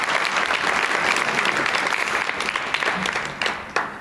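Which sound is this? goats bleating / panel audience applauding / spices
panel audience applauding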